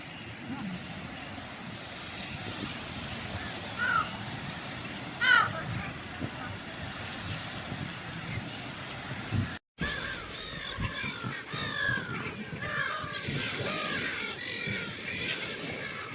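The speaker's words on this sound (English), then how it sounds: "And these birds not afraid of people." Crows caw intermittently at a holy lake near Mount Kailash, with scattered calls over a steady background of lapping water and outdoor ambience; a person speaks faintly at times.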